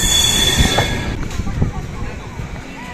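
Train rolling into Sevoke station, wheels squealing and rail noise steady and fairly close, with a brief voice passing over the clatter.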